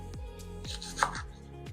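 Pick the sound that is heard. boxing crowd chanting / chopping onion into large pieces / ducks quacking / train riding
chopping onion into large pieces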